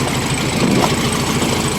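An old car engine idles in a shed just after starting, a steady close rumble with an uneven, slightly knocking pulse and no voices.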